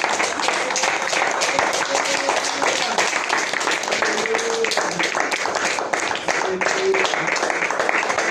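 A church congregation claps steadily and densely for several seconds during a worship service, a continuous wash of applause with faint voices underneath.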